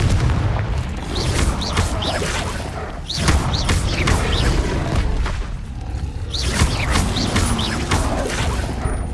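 Spell blasts in the Hogwarts Legacy video game as the Confringo fire spell is cast repeatedly, heavy booming explosions piling up with crashing impacts and a dense mechanical rumble, loud and continuous with bursts near 3 and 6.5 seconds.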